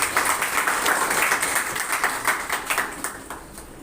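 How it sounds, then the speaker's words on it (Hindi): Crowd applause with many hands clapping together, fairly loud and sustained, slowly tapering off toward the end. "तो हम पास्टर धर्मेश जी का स्वागत करते हैं तालियों से।"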